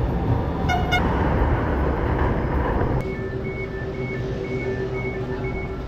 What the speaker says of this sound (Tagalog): ayan yung train